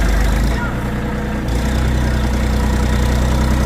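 A Kentavr 244SX Chinese tractor's engine running loud and steady during break-in, with a constant low diesel drone and slight changes in load.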